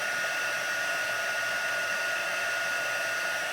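A heat tool blows a steady, continuous rush of hot air onto a surface to make it shiny, a constant hiss that holds level from start to finish with no talking over it.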